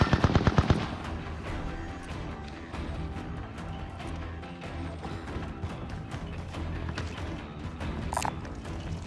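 Light machine gun fire in the Call of Duty video game, a loud continuous stream of rapid automatic shots that begins with a punchy burst and keeps rattling steadily, with no speech.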